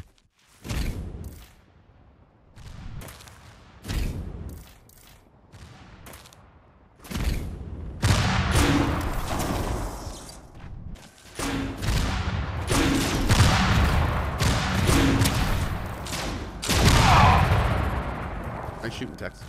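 Gunfire in the sci-fi shooter Tribes 3: Rivals comes as sparse, sharp separate shots at first, then builds into heavy, booming continuous fire and blasts, loud and close, with voices talking under it.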